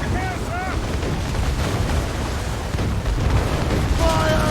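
Heavy ship broadside cannon fire in a naval battle in Assassin's Creed Rogue, a loud continuous rumbling barrage of booms with rushing water and brief cries over the top.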